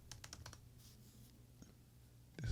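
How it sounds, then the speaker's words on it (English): Rapid irregular keyboard key clicks in a short burst, then a quieter stretch with scattered taps, over a low steady hum, ending with a louder thump. "That boy be typing."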